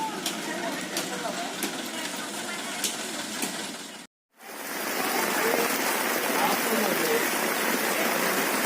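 Steady broadband rain falls across a street scene after a fallen saman tree crushed two house terraces, a continuous hiss briefly cut out mid-clip, with talk over it.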